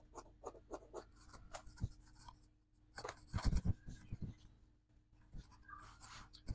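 Scissors cutting fabric while sewing a halter neck button-up dress, with quiet, close snips and rustling cloth in short bursts separated by brief pauses.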